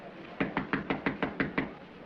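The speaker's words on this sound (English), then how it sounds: "There's somebody at my door." Knocking on a door in a 1937 romantic drama: eight even, firm raps in quick rhythm, close and clear over quiet room tone.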